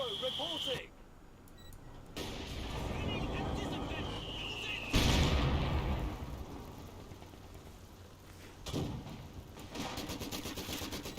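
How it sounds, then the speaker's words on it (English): Mortar barrage in the WWII strategy game Company of Heroes 2, a Wehrmacht mortar shelling an emplacement: heavy booming impacts and rumble, a big blast near the middle and another later, under steady battle noise with a voice talking. "Looks like the Wehrmacht mortar is still alive and it's barraging the mortar emplacement."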